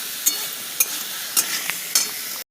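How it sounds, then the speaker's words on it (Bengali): Bitter gourd frying in mustard oil with salt and turmeric in a wok, a steady close sizzle broken by a few sharp stirring clinks at regular intervals before cutting off abruptly. "এটা ভাজা হচ্ছে।"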